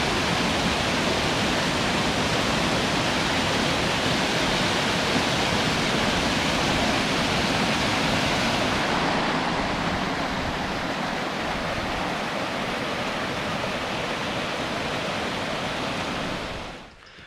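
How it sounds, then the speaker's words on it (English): Prydden Falls in Newtown, Connecticut, a forest waterfall heard from near its base, gives a steady loud rushing roar that holds unbroken and then drops away at the very end. "That's an awesome waterfall."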